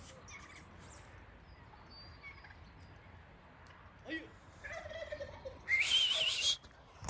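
Turkeys gobble in bursts amid quiet background noise, ending with a loud, shrill gobbling call close by.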